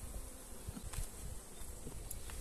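Honey bees swarm and buzz around a hive in hot weather in central Portugal, a dense, steady insect hum close by with no talking.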